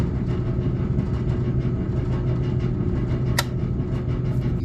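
An engine starter cranks with boost from a JP400 jump starter, producing a steady, loud mechanical drone with a rapid rattling pulse that runs continuously close by, with no voices.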